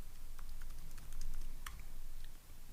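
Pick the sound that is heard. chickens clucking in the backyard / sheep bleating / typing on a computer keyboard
typing on a computer keyboard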